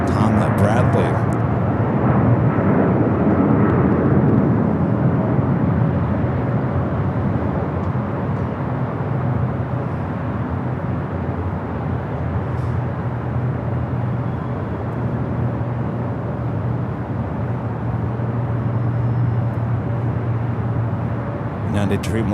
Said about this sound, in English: United Dreamliner taking that off there on the south side, 25 right.